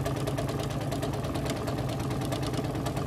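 A sewing machine stitches a quarter-inch seam on a Carpenter Star quilt, running fast with a rapid, even mechanical chatter and loud, steady drive throughout.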